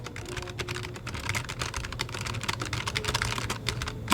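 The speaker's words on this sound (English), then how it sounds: "This is my Logitech Bluetooth keyboard that I have. And so right now I can type." Fast, steady typing on a Logitech Bluetooth keyboard paired with a Samsung Galaxy Tab A8 tablet, with dense, close key clicks running without pause for the whole stretch and no talking.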